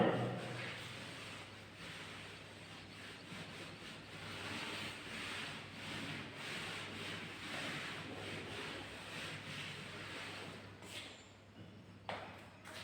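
A duster rubs writing off a classroom board in a long, steady scrubbing hiss that lasts throughout at a low, even level, ending with a faint knock.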